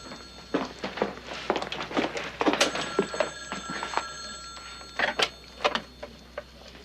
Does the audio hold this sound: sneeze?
no